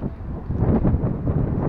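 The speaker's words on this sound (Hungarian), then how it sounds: "Fúj a szél egy kicsit." Wind gusting across a microphone outside Schiphol airport in Amsterdam, a steady low rumbling buffet that swells and eases through the short stretch.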